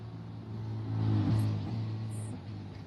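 A race car engine in the iRacing sim at Bathurst rises and falls in pitch, a steady mid-range exhaust drone swelling through the middle and easing off, heard alone without talk.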